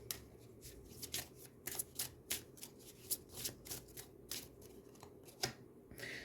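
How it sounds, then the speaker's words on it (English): Tarot cards are shuffled by hand in a quiet room, a rapid irregular series of crisp riffling snaps and slides heard close and alone. "I will give you a little bit of time as I shuffle these cards"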